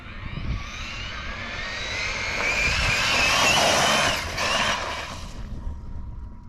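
An Arrma Mojave 8S RC car driven at full throttle on asphalt, a loud high-pitched electric motor whine rising as it speeds past close by, then fading slightly as it runs on.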